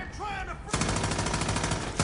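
Rapid automatic gunfire from a fast-firing gun in Far Cry 5 erupts after a brief moment of quieter game sound, then continues as a dense, loud, steady stream of shots to the end.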